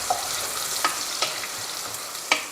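Three thinly sliced onions fry for a mutton curry, a steady close sizzle with periodic scrapes and taps as they are stirred around the pan, and no talking.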